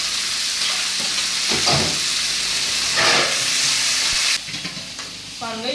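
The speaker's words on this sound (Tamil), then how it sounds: "கடுகு நல்லா பொரிஞ்சதுக்கப்புறமா கொஞ்சமாக கருவேப்பிலை நிறைய பச்சை மிளகு" Mustard seeds, curry leaves and green pepper fry in hot oil in a pan. The result is a loud, close, continuous sizzle and crackle with bursts of spitting and stirring scrapes.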